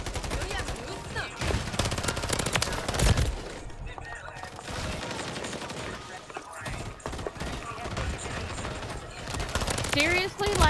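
Rapid shotgun and automatic gunfire in Modern Warfare 3, dense overlapping bursts throughout amid game noise and occasional talk.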